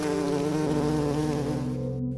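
A large hornet flies in a sound effect, giving a loud, steady, close buzz that drops away abruptly at the end.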